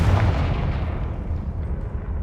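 A Confringo fire spell blasts in the Hogwarts Legacy video game, giving a loud, dense, rumbling burst that booms at once and rolls on steadily for about two seconds with no voices.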